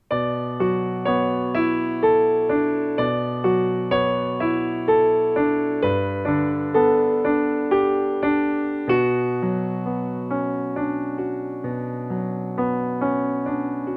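Piano chords played with both hands, a low bass chord under higher notes, moving through a slow, even progression.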